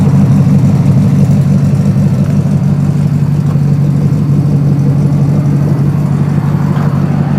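A 5.2 Jeep ZJ idles through a Magnaflow dual exhaust with custom piping, a steady, loud, low rumble that holds even for the whole stretch with no talking.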